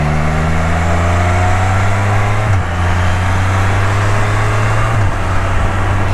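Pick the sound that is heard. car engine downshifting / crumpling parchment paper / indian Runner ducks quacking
car engine downshifting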